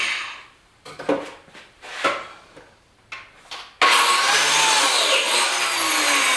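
A power saw blade set halfway into a wooden piece cuts a groove for a guitar hanger, a sustained loud broadband whine starting abruptly after a few short tool or handling knocks and running steadily to the end.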